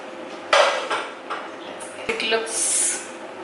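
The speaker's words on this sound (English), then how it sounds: "So I open the lid." A cooking pot lid is lifted off with a bright metallic clank and scrape in a home kitchen over bottle gourd curry, followed by a few lighter clinks of cookware, with a voice talking throughout.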